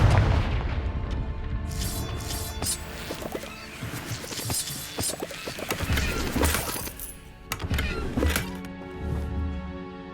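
Confringo spell explosions in Hogwarts Legacy, several booming blasts with crashing, shattering bursts scattered over a busy stretch of game combat noise and music.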